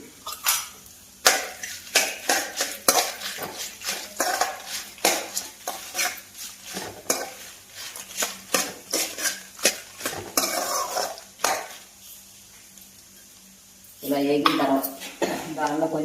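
Spices stirred in a pan while making dried red chilli chutney: repeated metal scraping and clinking strokes with a soft sizzle beneath, close and uneven, with someone talking in places.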